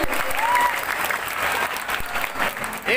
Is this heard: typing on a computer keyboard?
no